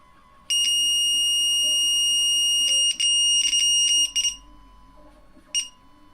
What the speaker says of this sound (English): Constant beep with the yellow and black.